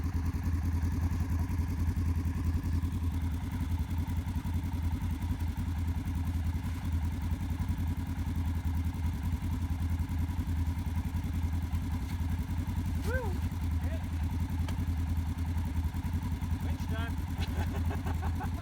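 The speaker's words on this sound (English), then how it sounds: "Your back tires are spinning, but this front one here isn't." A 2018 Polaris General 1000 UTV engine running with its back tires spinning, a steady close mechanical drone and rumble throughout, with people talking over it.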